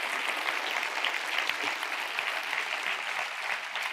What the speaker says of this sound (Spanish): Dale un aplauso a Dios bendito